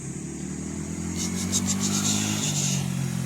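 A nearby Yamaha R15 motorcycle engine idles and then revs on a hillside road at Penukonda, a steady buzzing drone that rises in pitch and loudness partway through, with no talking.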